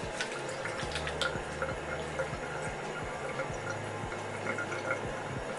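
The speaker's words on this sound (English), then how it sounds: "So I'm just gonna go ahead and again rinse my face with warm water." Warm water runs from a bathroom tap while a face is rinsed, giving a continuous splashing stream with occasional drips and small bursts, close and steady throughout.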